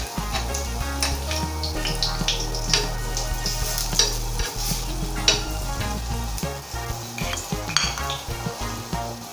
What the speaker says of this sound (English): we'll turn it on the other side like this and let it fry on the other side.